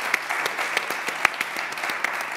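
An audience at a French-speaking church event applauds with a continuous, moderately loud patter of many hands clapping, with a few sharper claps standing out.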